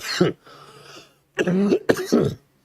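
A person coughs several times in harsh bursts, close to the microphone, with short pauses between.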